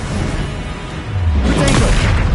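A Confringo blast spell explodes in the Hogwarts Legacy video game, a loud low boom with a crackling burst, following a brief whooshing lead-in and continuing as a rumbling roar.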